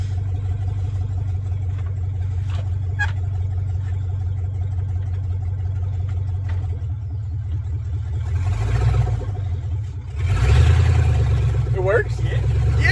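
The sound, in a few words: Chevrolet Silverado mud-rig engine idling in neutral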